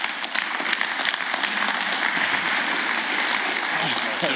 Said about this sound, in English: Let's give this guy a big round of applause.